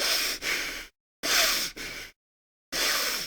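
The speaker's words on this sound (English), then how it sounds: "there's lots of breathing as well" Heavy, exaggerated breaths right at the mic, three long airy bursts separated by stretches of total silence.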